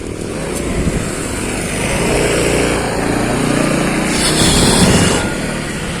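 A motorcycle engine runs nearby at Molino Dam, Cavite, with a steady, rough rumble that swells slightly at times, with no voices.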